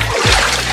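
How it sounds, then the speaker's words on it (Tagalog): Water splashes and sloshes as it is poured from one container into another, a short, close and fairly loud burst. "nagsasalin-salin ako na ng tubig."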